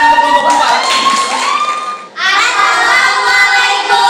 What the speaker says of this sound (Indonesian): Boleh tepuk tangan untuk kelompok keempat?